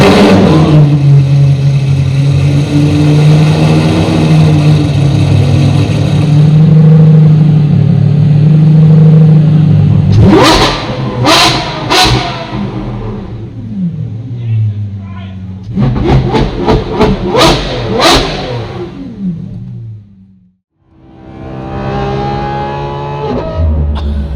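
A Lamborghini Revuelto engine drones loudly, then barks through sharp revs in quick bursts, drops briefly to near silence, and rises again; voices speak over it.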